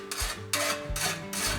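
A file rasped along a scythe blade to sharpen it, four steady rhythmic strokes in a row, each a close gritty scrape with a short pause between, no voices.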